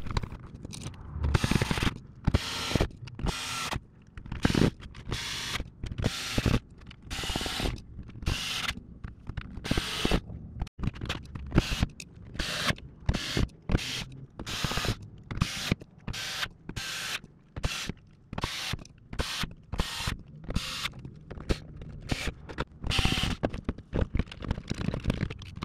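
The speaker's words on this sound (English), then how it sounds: "Test again with the lipo, and then I'll screw it all together." Screws are driven together by hand into the plastic shell of a Nerf Evader blaster, a long run of quick ratcheting clicks and small mechanical bursts with short gaps, heard up close and fairly quiet.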